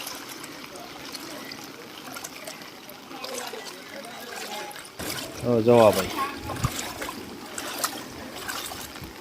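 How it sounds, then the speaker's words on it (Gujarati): Floodwater rushes through a village in Itadra, Gujarat, during heavy rain, a steady broad wash of flowing water running throughout beneath someone talking nearby. "પાણી ખાસું ભરાઈ ગયું હા ગામમાં."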